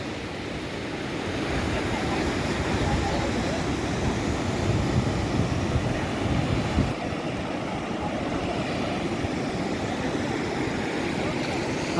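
Rushing water overflowing a full village dam spillway in Kutch after heavy rain roars continuously and evenly, a broad steady wash of sound.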